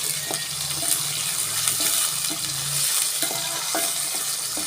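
Mustard seeds, fenugreek, curry leaves, garlic and shallots sautéing in a pan, a steady gentle sizzle with spoon taps and stirring scrapes, fairly close and with no talking.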